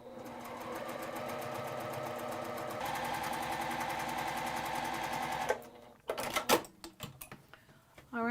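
A sewing machine stitches a quilt seam in a steady, close mechanical whir for several seconds, then stops, leaving a few clicks and handling noises.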